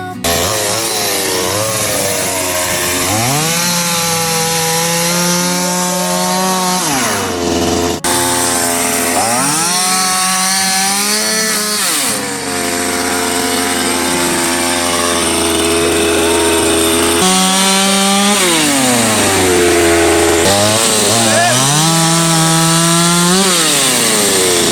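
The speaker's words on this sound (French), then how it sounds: "j'ai une tronçonneuse dans le camion" A chainsaw cuts through a fallen tree branch beside a camper truck, its engine loud and close as it revs up and bogs down in repeated cutting strokes, with no talk over it.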